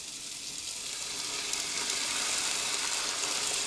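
Food frying in a pan gives a loud, close, continuous sizzle that swells slightly and then holds steady, bright hiss with no voices over it.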